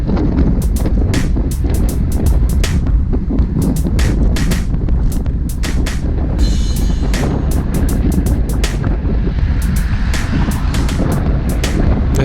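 Wind gusting and buffeting a microphone on an outdoor group cycling ride on a road, a steady loud low roar filling the clip with no talk.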